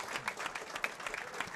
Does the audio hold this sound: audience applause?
yes